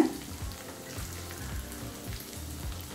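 Green peas tipped into a hot pan for poori masala set up a soft, steady sizzle with faint crackling, close by and fairly quiet, with no one talking.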